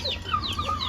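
Chickens clucking close by, with short warbling calls repeating throughout a brief moment, loud and clear over a low background rumble.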